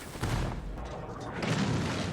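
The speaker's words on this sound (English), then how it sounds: "Fire the cannon." An 18-pounder cannon fires in a film battle scene at the Alamo, heard as a muffled low boom that rolls on, then a second swelling rumble, fairly quiet overall.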